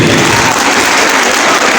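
Loud, dense applause from the crowd at a beautician gala event in Abbottabad, a continuous wash of many clapping hands with no clear breaks or talk.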